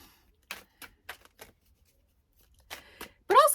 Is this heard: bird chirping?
no